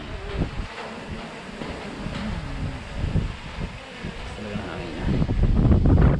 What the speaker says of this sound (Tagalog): kita nyo yan lakas ang hangin oh